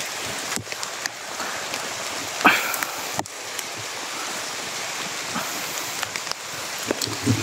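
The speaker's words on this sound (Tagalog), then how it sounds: "Umuulan pa kasi dito" Heavy rain falls in a forest as a dense, constant hiss of drops on leaves and ground, with a few sharper knocks and taps standing out against the downpour.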